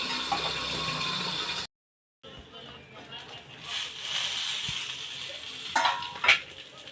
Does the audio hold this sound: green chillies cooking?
yes